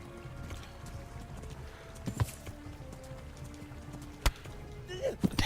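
Horse hooves clip-clop in a quick rhythm in the video game Kingdom Come: Deliverance, under faint background music, with a few sharp thuds and a brief horse whinny near the end.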